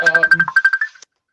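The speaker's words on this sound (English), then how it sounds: "now there's a telephone ringing." A phone rings with a quick electronic warble, a rapid trill of pulses lasting about a second before cutting off.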